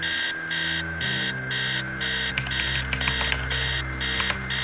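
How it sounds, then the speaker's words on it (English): An alarm clock blares upstairs in the video game Stories Untold, a loud electronic beeping that repeats in regular rapid bursts with no pause and stays harsh and insistent throughout. "Upstairs, the sound of an alarm clock blaring."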